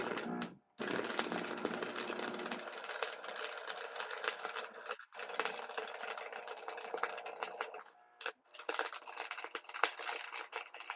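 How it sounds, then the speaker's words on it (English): Steel blades being arc welded, a dense crackling buzz that runs steadily with brief gaps where the arc stops and restarts, close and fairly loud with no talking. "I think I'm gonna have to do one more weld across this thing"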